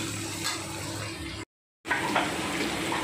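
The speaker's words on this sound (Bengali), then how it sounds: "এবার একটা কুচানো পেঁয়াজ দিয়ে দিলাম, দিয়ে এবার ভালো করে নেড়ে নিচ্ছি।" Chopped onion frying in a pan gives a close, moderate sizzling hiss with light stirring, broken by a brief silent gap before the frying resumes.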